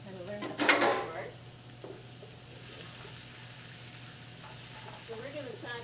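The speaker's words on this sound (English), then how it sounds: "we've got a couple cups of chopped onion, a couple cups of celery and carrots, and we're going to saute these" Chopped onion, celery and carrots saute in olive oil in a pan, a soft steady sizzle with a brief clatter of utensils near the start and a little talk.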